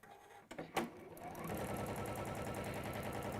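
Sewing machine stitching quilting or applique fabric, starting after a couple of sharp clicks and then running steadily at a fast, even rhythmic pace, close and fairly loud, with no talking.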